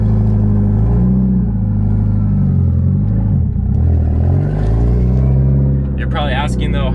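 A Kawasaki Ninja 650R motorcycle engine runs after a roll start down a hill, a loud, close, continuous rumble whose pitch rises and dips slightly.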